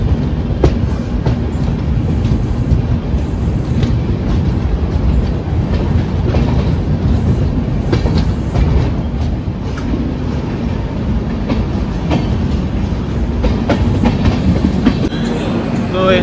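A Duronto Express from Delhi to Sealdah rolls steadily along the rails just after leaving Koderma station, a constant loud rumble with rhythmic wheel clatter heard from inside the carriage, with some faint voices underneath.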